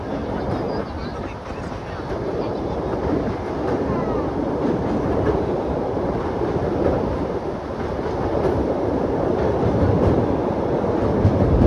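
A diesel passenger train on the Madurai–Rameswaram line crosses the Pamban bridge, a continuous loud rumble with rattling wheel clatter heard from on board, steady throughout.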